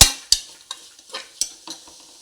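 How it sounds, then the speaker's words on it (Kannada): Beans, carrots and peas frying in oil in a pan for mushroom pulao, with a utensil stirring them in several scraping, clattering strokes over a faint sizzle, close and fairly quiet. "ಬೀನ್ಸ್ ಮತ್ತು ಕ್ಯಾರೆಟ್ ಹಾಕ್ತಾ ಇದ್ದೇನೆ ಈಗ ಬಟಾಣಿ ಎಲ್ಲವೂ ಸ್ವಲ್ಪ ಫ್ರೈ ಆಗಲಿ"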